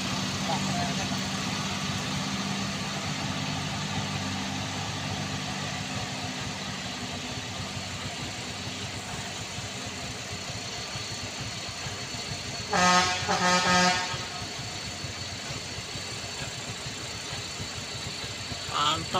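Heavily loaded diesel truck straining up a steep, extreme incline, its engine droning steadily throughout while a horn honks briefly near the end.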